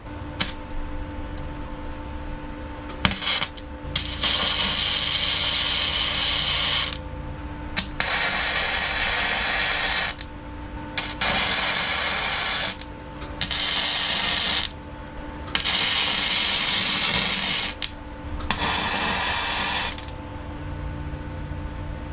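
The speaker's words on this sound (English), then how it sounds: "let's change the settings on the welder and let's get to it" Welder laying beads of metal onto a foot peg of a 2008 King Quad 400 four-wheeler, a series of loud crackling, buzzing bursts of a few seconds each, separated by short quiet pauses.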